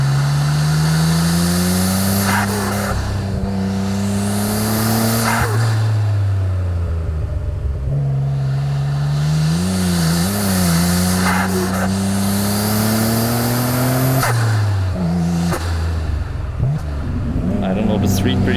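A 1993 Nissan Skyline R32 GTR on a winding mountain touge road, its engine droning loudly from inside the cabin as it repeatedly revs up through the gears, drops on each shift and climbs again at a moderate pace.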